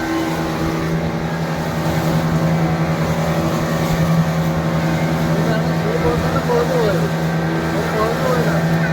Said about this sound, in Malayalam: അപ്പോൾ നമ്മൾ ബോട്ടിൽ പുറപ്പെട്ടിട്ടുണ്ട്.